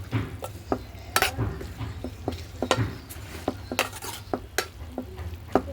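Amaranth leaves with turmeric are stirred in a pan over a wood fire, a rhythm of scraping, clinking spoon strokes over a soft sizzle, close and alone.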